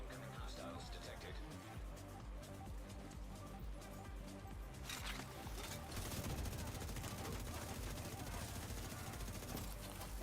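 Automatic gunfire in The Division 2 during heroic PvE combat, dense rattling bursts layered under game music and effects, growing busier toward the end; a voice talks over it.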